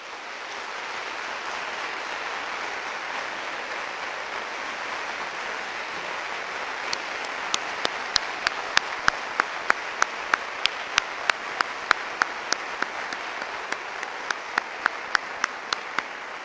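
A university audience applauds a symphony orchestra and its director, a steady wash of clapping that holds for the whole stretch, with a few sharper claps standing out toward the end.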